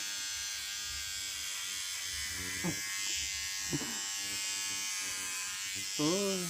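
An electric clipper buzzes steadily while shaving a young girl's head at close range, with a child's and adults' voices speaking over the hum and a brief cry near the end.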